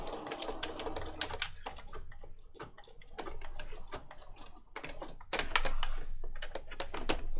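Sewing machine stitching around a book page with brown thread, heard as bursts of rapid mechanical clatter with short pauses between runs, close and fairly loud, no talk.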